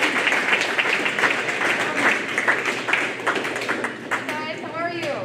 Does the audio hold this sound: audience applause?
yes